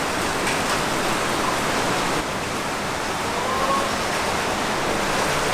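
Heavy monsoon rain pours steadily on a street in the Philippines, a loud, dense, continuous hiss that holds at one level for the whole stretch, with no voices cutting through.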